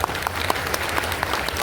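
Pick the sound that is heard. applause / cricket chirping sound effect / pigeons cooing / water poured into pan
applause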